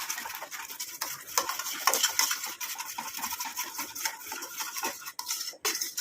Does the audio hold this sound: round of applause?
no